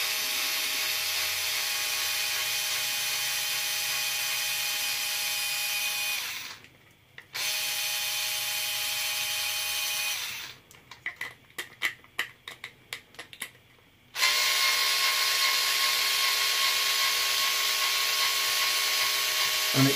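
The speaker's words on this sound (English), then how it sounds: "it certainly makes life a hell of a lot easier with an electric driver" An electric screwdriver backs out small 1.5mm hex screws from a Losi LMT rear axle housing, whining steadily at close range, cutting out briefly, then a burst of rapid ratcheting clicks before the motor resumes its even whine.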